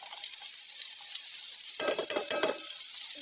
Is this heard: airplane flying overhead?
no